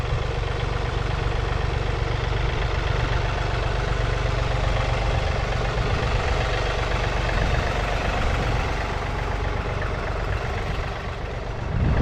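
A John Deere 3 Series compact tractor's small diesel engine idles steadily with a low, even chugging rumble, close by and unbroken throughout.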